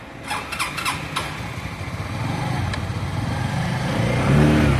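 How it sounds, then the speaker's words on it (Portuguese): A few clicks at the start, then a 2015 Suzuki Burgman 125 scooter engine starts up and idles steadily, its low hum growing slightly louder toward the end. "Olha o barulhinho do motor. Sereninho."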